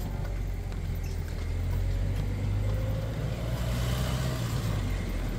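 A car engine in a 19th-century themed video game rumbles and hums steadily as another vehicle overtakes, a low continuous drone that swells slightly mid-way, moderately loud with no speech.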